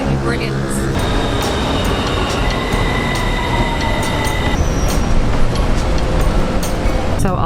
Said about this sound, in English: It's also known as the Sky Train, and it's an elevated rapid transit system here with like 3 different lines and 62 stations across Bangkok